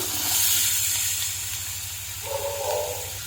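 Chopped beetroot and carrot hiss and sizzle steadily in a pan just after mustard seeds, a soft continuous frying noise with a faint low hum underneath and no talking.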